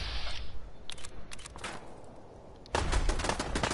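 Automated turrets firing in Fallout 4 during a survival-mode session, a burst of rapid sharp shots that fades, then sparse faint pops, then a louder dense volley near the end.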